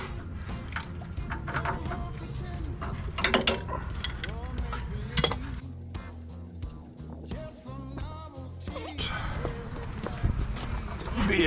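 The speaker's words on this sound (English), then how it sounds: "Let's see about taking this nut off." A wrench works on a nut on a Land Cruiser 100 Series upper control arm, giving repeated close metallic clicks and ratcheting scrapes in irregular bursts, with a person talking throughout.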